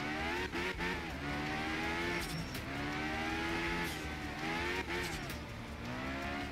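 A rally car drifting in Art of Rally, its engine revving and dropping in steady waves as it slides through corners, with faint tire noise under a continuous, close engine drone.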